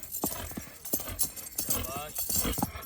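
Hooves clip-clop in a brisk, uneven rhythm as a horse moves close by during training, the beats loud and clear while someone speaks over them.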